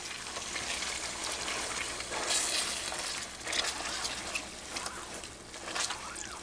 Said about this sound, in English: Stir everything all together.